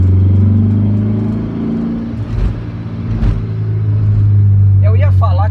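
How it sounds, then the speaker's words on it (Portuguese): A Volkswagen Fusca with a 1900 engine and variable venturi carburetor idles with a deep steady drone, then rises briefly as the throttle is pressed, loud and near, with a voice speaking over it. "Agora eu vou afundar o pé no acelerador, nenhum tipo de engasgo"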